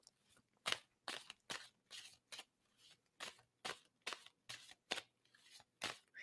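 Tarot cards being shuffled in repeated crisp riffling bursts, roughly one every half second, close and fairly quiet, with no voices.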